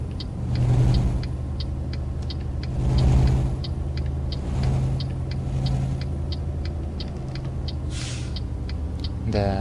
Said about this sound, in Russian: Да, звук тормоза неплох.